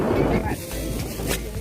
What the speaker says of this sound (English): weather is windy now